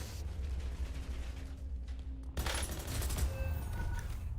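A sudden loud crack from a sniper rifle in Warzone cuts through a low, steady ambient hum, followed by a burst of sharper impact and gunfire noise.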